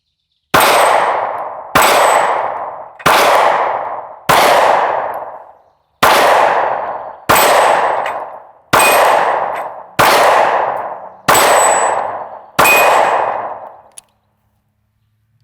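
Ten loud, sharp pistol shots from a Sig Sauer P365 firing Hornady 135 grain Flex Lock +P defensive rounds, spaced at an even rhythm of roughly one per second, each ending in a short ringing decay, with no talking.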